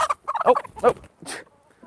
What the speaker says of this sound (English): there's a little chicken down there who's trying to sneak in to get some corn, but she couldn't because of all the other chickens